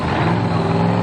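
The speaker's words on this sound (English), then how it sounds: "Motor comes to life." A drag racing funny car engine runs loud and close at the 1997 NHRA Pennzoil Nationals, a steady, dense, harsh roar with a strong low drone and no pauses.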